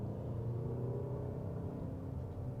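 Engine of a 2022 Mazda CX-5 Turbo on a downshift while driving curvy roads, a steady low rumbling drone heard from inside the cabin, continuous and fairly even throughout.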